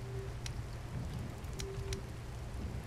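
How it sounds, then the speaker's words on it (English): Steady rain falls in the desert survival game Badiya, a soft continuous patter and hiss at low volume with a few faint clicks from the game interface. "Sounds like it's raining."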